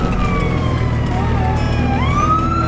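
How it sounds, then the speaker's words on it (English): Emergency vehicle sirens wail on a street, rising and falling tones in the distance over a loud, steady rumble of nearby traffic and engine noise. "More sirens."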